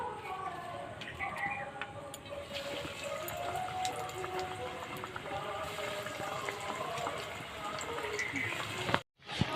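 Banana flower pakoras coated in biscuit and breadcrumb crumbs sizzle and crackle steadily in hot oil, a close, hissing fry with scattered pops, while someone talks over it.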